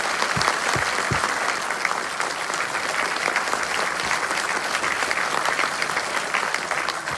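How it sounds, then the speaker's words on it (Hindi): Loud, sustained applause from an audience at a CSS Day 2023 celebration at the Ambedkar International Centre in Delhi, dense clapping filling the hall without a break. "श्री शशिकांत यादव साहब, जोरदार तालियां कम नहीं होनी चाहिए"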